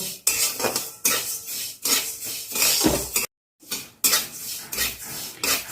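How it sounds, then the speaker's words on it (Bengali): Kalonji seeds roast with salt in a pan, heard as brisk metallic scraping and clinking of a spoon stirring against the pan in close, uneven bursts with a brief pause. "এবার নুনটা শুদ্ধ আমি ভালো করে ভেজে নেব"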